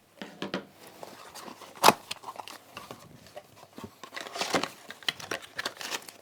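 Scissors pulled through a handheld scissor sharpener with a handle grip, giving a cluster of close, dry scraping and crinkling strokes with one sharp louder rasp near the start of the run.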